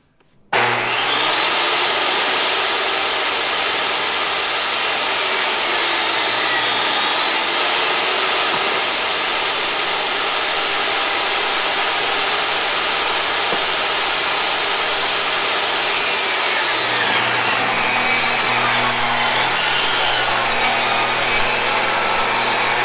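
A power saw with its blade beveled at 16.5 degrees rips plywood edgewise for porch framing, a loud, sustained high whine that dips briefly midway, then drops to a lower idle hum near the end.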